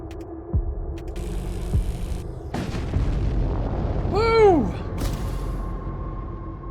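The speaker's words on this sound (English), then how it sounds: "The explosion scatters debris in all directions." A ship explodes in the space combat game Void War, a low booming blast with a sweeping descending whistle on top, loud over a constant rumbling hum.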